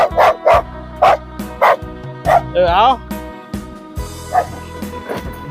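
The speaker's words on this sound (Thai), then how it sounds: "ดูดิ เห่ากันใหญ่เลย" Several dogs bark by a roadside in Thailand, loud rhythmic woofs and yips close by with one whining howl, while someone talks over them.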